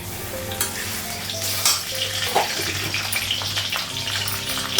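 Ginger paste fries in a wok for paneer curry, a steady loud sizzle with stirring scrapes and clinks running throughout.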